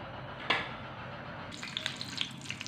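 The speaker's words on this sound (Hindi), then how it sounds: "घी गर्म हो रहा है" Ghee heating in a kadai for a chicken chana dal, with a soft hiss and a sharp crackle followed by scattered light sizzling pops, faint and close with no talking.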